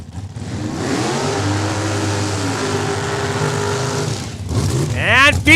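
Drag racing cars launch and accelerate hard at Saskatchewan International Raceway, a loud sustained engine roar that climbs in pitch for several seconds, then fades before a second rising rev near the end.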